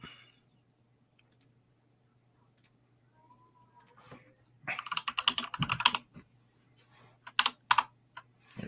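Typing on a computer keyboard, a sparse tick or two early, then a dense burst of quick clattering keystrokes followed by a few scattered clicks in a quiet room.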